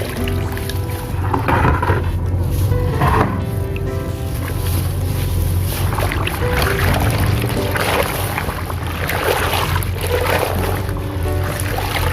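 Cloth freshly dyed black and treated with colour fixer is sloshed and wrung in a tub of plain water, giving continuous close splashing and watery churning with no talk.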